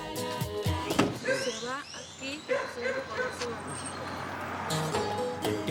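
An old dog in the Panamanian countryside barks and yips in short, irregular bursts with some whimpering, fairly near, while people talk over it.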